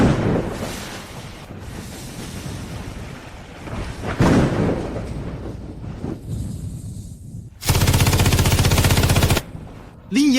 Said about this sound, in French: Utiliser une mitrailleuse